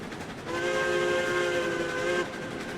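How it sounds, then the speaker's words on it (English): In the railroad game RailRoads Online, a steam locomotive whistle blows one long steady chord that echoes through a canyon. It rises over a hissing background and then cuts off. "It definitely makes the whistles on the locos stand out."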